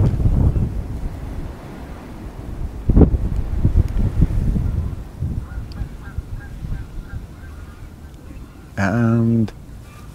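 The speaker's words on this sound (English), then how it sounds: "It's just calmed down a little bit, that wind now. Oh, it's coming back again." Wind gusts across a fishing lake at Lindholme Lakes, buffeting the microphone with a low, steady rumble that rises and eases. A goose-like honk cuts in near the end.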